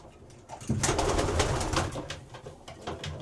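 A large racing pigeon hen in a loft coos and rustles close by, a steady throaty burble lasting a few seconds.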